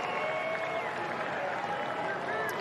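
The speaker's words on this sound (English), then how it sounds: "So some applause for Randy here in Tampa" Baseball crowd in Tampa applauding after a base hit, a steady dense wash of clapping and cheering from a large stadium audience with a commentator's voice faintly under it.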